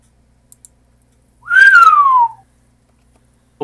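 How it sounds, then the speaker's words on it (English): A person whistles one loud, clear note that slides downward, lasting under a second, in an otherwise quiet room with a couple of faint clicks. "Don't whistle on stream. That's really loud for other people's ears."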